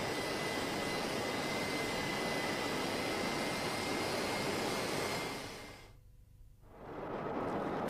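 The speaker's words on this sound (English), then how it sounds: "The inner liner is now buffed using a 36 grit dome rasp." A 36 grit dome rasp grinds steadily against the rubber inner liner of an OTR tire, a loud continuous abrasive roar that cuts out briefly near the end before resuming.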